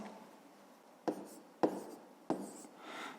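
Pen strokes on paper while working a fifth-grade math exercise by hand: three short, sharp scratching taps spaced about half a second apart, close and quiet, followed by a softer rubbing stroke.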